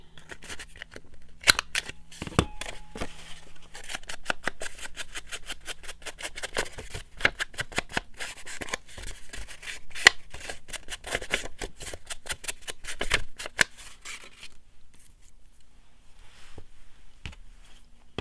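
Scissors cutting the corners of paper, a rapid series of close, crisp snips in uneven bursts, then a few scattered cuts before the snipping fades to quiet.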